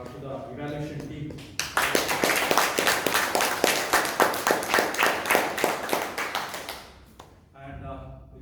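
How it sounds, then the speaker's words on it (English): An audience claps for the evaluation team at a Toastmasters meeting, a burst of rapid close claps that lasts several seconds between stretches of speech. "a very big round of applause to the evaluation team"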